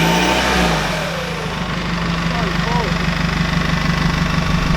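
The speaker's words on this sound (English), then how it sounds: "I don't think your exhaust is working." An off-road vehicle engine revs and idles roughly with a faulty exhaust on a forest trail, a steady loud mechanical drone throughout as people talk over it.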